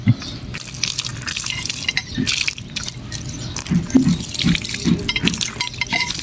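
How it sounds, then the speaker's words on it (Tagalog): Tap water runs continuously with splashing and dripping as a rusty pipe elbow is rinsed, a close, steady wash with occasional knocks and no talking. "Banlawan ulit natin ng tubig"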